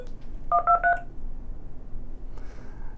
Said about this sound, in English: When I press it, it's going to send that DTMF tone to the TELESwitch